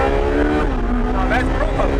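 Ferrari 458 Speciale V8 engine pulling at about 5,000 RPM and low road speed, a loud, steady harmonic drone that climbs slightly in pitch over two seconds, with voices talking over it inside the cabin.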